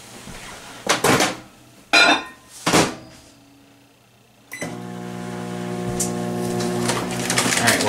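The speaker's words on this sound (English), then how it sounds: "melt that down in the microwave" A microwave oven melting a couple tablespoons of butter gives a few loud clunks and clicks, then settles into a steady, close, humming drone that runs on alone to the end.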